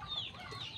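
A brief cluck from a yellow copper rooster, a single short call at moderate distance against a soft background.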